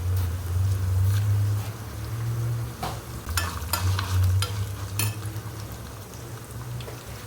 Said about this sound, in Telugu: చక్కగా ఆవాలు చిటపటలాడాక